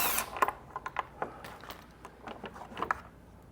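Faint, quick ratcheting clicks in short irregular bursts as a 10mm bolt is removed on a Hyundai Santa Fe during A/C condenser replacement, close by and quiet, with no talking.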